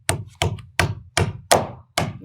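Six sharp hammer blows drive nails into a sliding door, struck at an even pace, each one a crisp, close knock with a short ringing tail.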